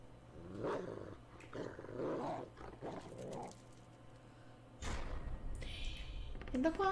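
Dogs growling in the video game Layers of Fear, a mastiff or Rottweiler-like beast, several low snarling bursts followed by a louder thump and rumble, game effects close and clear.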